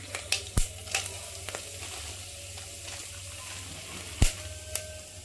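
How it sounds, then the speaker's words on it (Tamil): Bay leaves, cloves and cinnamon fry in hot ghee and oil with a steady, soft sizzle. A few sharp clinks and taps come at the start and again near the end, all heard close. "இப்போ நெய்யும் எண்ணெயும் நல்லா சூடாயிருச்சு. நம்ம இந்த இலை, பிரியாணி இலை, கிராம்பு, பட்டை இதெல்லாம் கொஞ்சம் போட்டுக்கலாம்."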